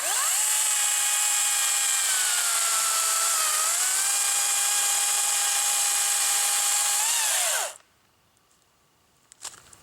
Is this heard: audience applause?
no